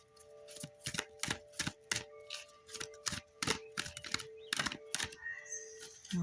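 Oracle cards are shuffled in a rapid series of crisp riffles and slaps, close and quiet, in irregular bursts with short pauses, over a faint steady hum.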